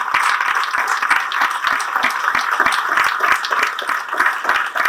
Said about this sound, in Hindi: एक बार ऊपर वाले के लिए जोरदार तालियां हो जाएं